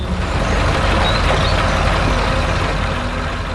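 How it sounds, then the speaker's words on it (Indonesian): A red truck with big tires working a green rice field, its engine roaring loud and steady, close up and alone throughout. "Truk merah dengan ban besar sedang beraksi di tengah sawah yang hijau. Suara mesinnya menggelegar,"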